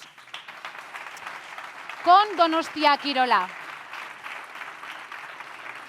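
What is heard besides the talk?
applause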